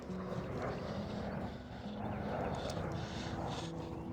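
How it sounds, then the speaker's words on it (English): A big airplane rumbles overhead as a steady, broad roar that fills the whole stretch, heard outdoors on a sidewalk during a dog walk. "Oh, there's a big airplane."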